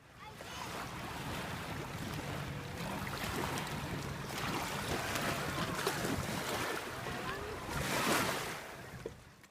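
Paddle boarding on a river, with continuous splashing and rushing water, wind buffeting the microphone, and a louder swell of splashing near the end.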